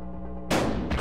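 A sawed-off shotgun fires once, loud and close, in the video game Buckshot Roulette, a sharp booming blast after a quiet background hum, with a second burst of noise following shortly after.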